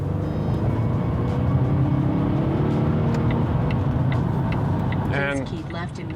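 Inside a 2020 Volvo V60 T8 Polestar Engineered hybrid while it accelerates in city traffic: a steady, loud cabin drone of engine and road noise throughout, with a brief run of ticking near the end.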